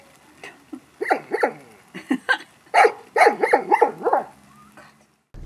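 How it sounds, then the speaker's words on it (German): A dog gives a series of short, yelping barks in uneven bursts, fairly close and loud, with brief pauses between clusters. "Der Hund übt noch zu bellen, hört sich irgendwie grausam an."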